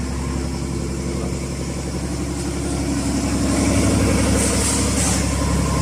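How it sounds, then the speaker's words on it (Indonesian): Throbbing diesel engine idling inside a Bagan Tilong fishing boat, a close, steady low chugging pulse with mechanical rattle that swells slightly louder midway, no talk. "kita masuk ke dalam lagi untuk melihat bagian mesin"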